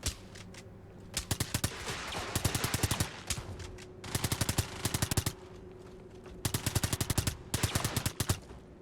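Rapid automatic gunfire in the game Iron Nest, several loud sustained bursts separated by brief pauses, with no talk over it.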